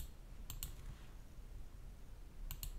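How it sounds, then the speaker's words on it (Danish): Mouse clicks placing points in TI-Nspire geometry software: two quick pairs of crisp clicks, one early and one near the end, over a quiet room hum with no talking. "Og så klikker jeg simpelthen de første to punkter her"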